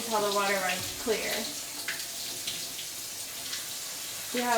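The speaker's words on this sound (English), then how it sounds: "You're gonna rinse it until the water runs clear." Tap water runs steadily while food is rinsed in a kitchen sink, a continuous splashing hiss at close range, with a voice speaking at the start and end.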